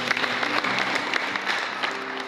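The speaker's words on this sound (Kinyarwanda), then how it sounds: "Mwakomeye Imana amashyi." Applause at a church wedding ceremony led by a pastor, a steady wash of clapping from a gathered congregation, moderately loud and continuous for a couple of seconds with faint voices mixed in.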